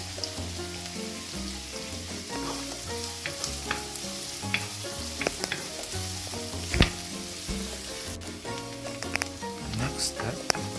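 Onions sizzle steadily while being sautéed in a pan for a Filipino tinola, a continuous crackling fry with occasional sharper pops and stirring, mixed with background music-like tones.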